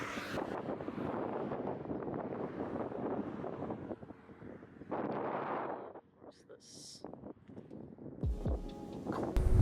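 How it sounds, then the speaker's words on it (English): Strong wind gusting across a microphone outdoors beside a canyon road, a loud broad rumbling buffet that swells and drops over several seconds, with a brief lull before gusts return. "it's pretty windy"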